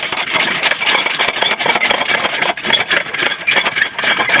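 A homemade lawnmower cart's small engine runs close and loud at night, a steady buzzing drone with a brief dip in the middle, and no one speaking.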